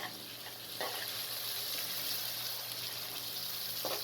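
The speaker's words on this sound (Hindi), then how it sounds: "1 से 2 मिनट के लिए आप इसको भून लें।" Aloo gobi ingredients fry in a pan over a medium flame, giving a steady, close sizzle throughout with a couple of brief stirring scrapes and no talking.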